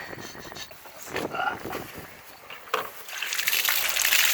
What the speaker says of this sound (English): So we just dumped a bunch of water through the gas tank.